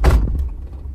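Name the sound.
car door opening, Suzuki Every wagon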